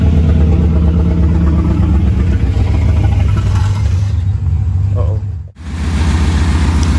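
A 1991 Chevrolet Camaro RS, recently fitted with a new fuel sending unit and fuel pump, runs with a loud, close, low rumble that briefly cuts out near the end before resuming, with muffled voices mixed in.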